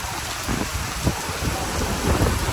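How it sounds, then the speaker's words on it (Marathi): Heavy rain pours steadily with strong wind and deep rolling thunder rumbling underneath in Akkalkot, loud and close, no voices. "पाऊस आहे जोरात वारा आहे आणि मध्ये मध्ये विजा चमकत आहेत गडगडत आहेत"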